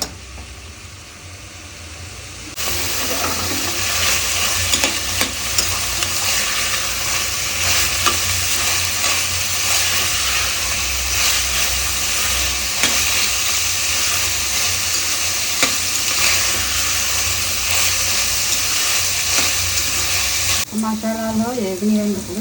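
Masala ingredients for a stuffed brinjal curry fry and get stirred in a pan, a loud steady sizzle with scraping stir noises running throughout, faint talk underneath.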